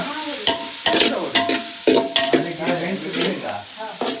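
Chicken and red chili being stirred in a hot pan for a village-style dish, with a steady sizzle of frying broken by repeated scraping strokes of a spoon against the pan, close and loud.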